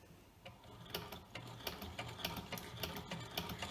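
Turning the handwheel of a vintage Vickers Modele Deluxe sewing machine sets off a smooth run of light, evenly spaced mechanical ticks and clicks. They sound close and clear, with no talking over them.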